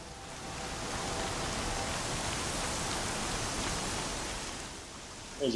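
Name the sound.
rain in a video game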